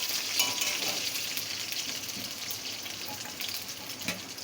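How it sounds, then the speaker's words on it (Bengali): Chopped ginger and garlic frying in hot oil, a steady bright sizzle with light stirring scrapes, close and even throughout. "এখন দিয়ে দেবো আদা কুচি আর রসুন। দিয়ে এটা একটু ভেজে নেব।"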